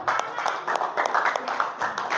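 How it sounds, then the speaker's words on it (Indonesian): A school class in Indonesia applauding a student group, a close, busy patter of many hands clapping in uneven bursts with young voices mixed in. "Tepuk tangan dulu untuk kelompok 1."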